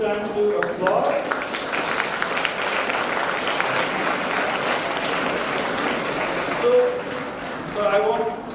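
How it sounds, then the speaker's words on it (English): Sustained audience applause fills a clinical pharmacy conference hall, a dense steady patter of many hands clapping at fairly even loudness, with a few faint voices rising near the end. "this is the time to applaud"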